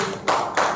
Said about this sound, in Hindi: ताली बजाओ जोर से, जोर से, अरे जोर से बजाओ